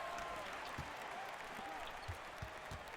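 Home crowd applauding in an NBA 2K21 arena, a steady wash of clapping held at moderate distance under a commentator's voice.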